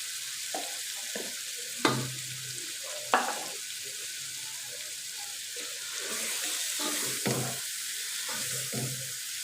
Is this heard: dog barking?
no